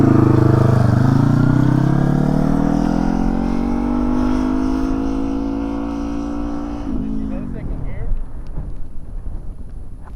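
A learner's motorcycle engine revs as the throttle opens to pull away, a loud rising drone that climbs in pitch for several seconds then drops and sputters, with people talking nearby.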